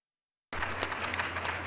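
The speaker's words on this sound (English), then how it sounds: "I want you to please give them a round of applause." Applause starts abruptly after a short silence and continues at a soft, even level from an audience at a live event, with a low steady hum underneath.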